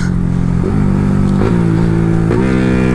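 A Yamaha R15 V3 sport motorcycle engine revs hard three times in quick succession, each rev rising sharply over a loud, continuous rumble close by.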